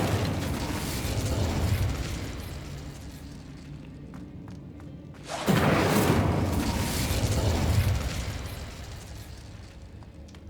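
Incendio fire spell cast in Hogwarts Legacy: a sudden loud fiery burst midway erupts out of a rumbling background, then a sustained roaring blaze that slowly fades.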